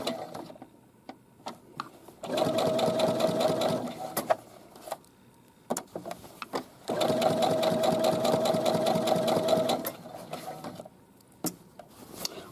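Sewing machine stitching the hem of a pair of shorts, running in two sustained bursts of rapid mechanical chatter separated by pauses filled with small clicks and handling taps.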